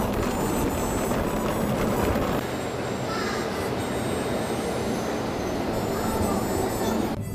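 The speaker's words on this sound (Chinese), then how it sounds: "坐上高铁了" Steady broadband rumble and rushing hiss inside a Chinese high-speed train bound for Liuzhou, Guangxi, continuous and fairly loud, with a slight drop in low-end roar partway through.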